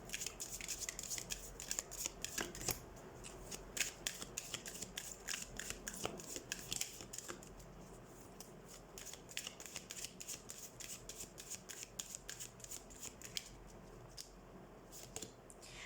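A deck of tarot cards is shuffled over and over in a quiet room, with close, rapid, crisp riffling and flicking that runs nearly continuously throughout.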